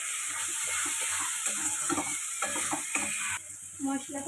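Chana masala spices with kasuri methi are stir-fried in a pan. A spoon scrapes and clacks in uneven strokes over a loud, close sizzle, which drops briefly near the end.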